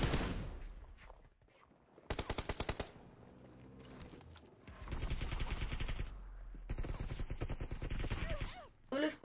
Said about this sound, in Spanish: Escuchas delay en los balazos.